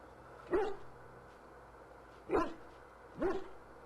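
A dog in the Dragon Age video game gives three separate short barks with pauses between them, clear against a quiet background.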